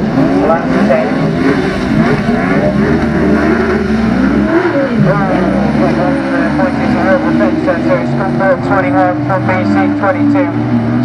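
Several autograss race cars roar around a dirt circuit during a lap-10 class 10 event, a dense, continuous engine drone with shifting revs, while an announcer's commentary runs over it throughout.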